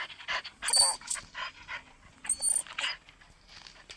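A dog in a video game pants in quick, airy bursts, close and fairly clear, in several separate spells with short gaps between them.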